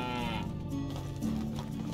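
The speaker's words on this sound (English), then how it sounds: "Hi, cows." Cattle moo in the farming game Medieval Dynasty, a low drawn-out bovine call with a couple of overlapping moos, close and clear with no talk.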